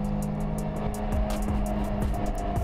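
A Peugeot 206 RC engine revs in sharp blips during rev-matched downshifts, loud and close, with a steady tonal drone and a repeated rhythmic pulsing through the short burst.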